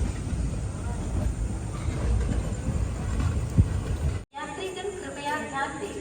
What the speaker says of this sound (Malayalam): ട്രെയിൻ ഇതാ ഷൊർണൂർ ജംഗ്ഷൻ റെയിൽവേ സ്റ്റേഷനിലേക്ക് എത്തിക്കൊണ്ടിരിക്കുകയാണ്